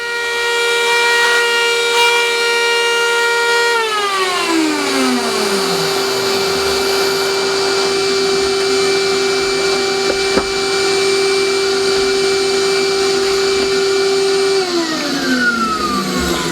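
A router running off a template cuts a joint to its full 1-inch depth in wood for a garden bench. A loud, continuous high motor whine holds throughout, with its pitch sagging as the bit bites deeper, alone and close, with no talking.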